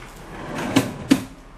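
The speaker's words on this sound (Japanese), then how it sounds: "引き出しが結構いくつもあって" A hotel room drawer slides and thuds, two close knocks less than half a second apart over a soft room hum.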